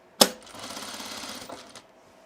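Sewing machine stitching a sunblock top: a sharp start click, then a close, steady mechanical whirr for about a second and a half, ending in a couple of soft clunks before quiet.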